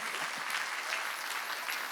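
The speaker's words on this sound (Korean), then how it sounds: "박수치라 이게 박수치라" A church congregation claps together during a Sunday worship service, a dense, steady wash of many hands that holds without pause for the whole stretch.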